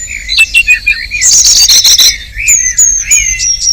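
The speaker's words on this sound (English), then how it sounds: "The dawn chorus may fill humans with joy, but for the birds, it's a serious business." Spring dawn chorus of wild birds singing, several overlapping songs with bright whistles, trills and chirps, one busy burst of calls in the middle, close and clear with no talking.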